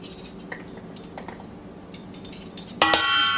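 Spoon clinking and scraping in a bowl while apples are mixed with granulated sugar and cinnamon, soft taps early on, then a louder clattering scrape near the end.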